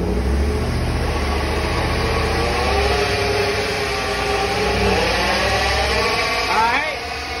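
A 2008 Chevy Suburban revving in a shop with a noisy rear differential, steady engine drone with a whining, warbling tone rising and falling over the run, close and loud.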